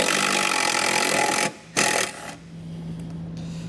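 Power driver fitted with a T25 Torx bit backing out Torx screws on a 2020 Jeep during a hidden trailer hitch install, a loud steady whirring that cuts out briefly, bursts again, then fades to a low hum.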